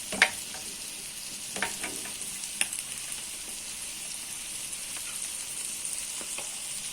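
Pieces of liver sizzle and fry steadily in a hot pan while spices go in one after another, with a continuous close crackle and a few sharp clinks early on.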